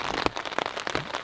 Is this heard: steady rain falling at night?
yes